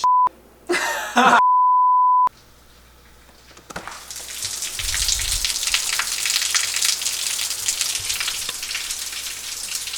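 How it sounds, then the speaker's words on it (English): Steady rain hisses as a dense, even patter that swells in after a couple of short electronic beeps and then continues unbroken to the end. "It's raining."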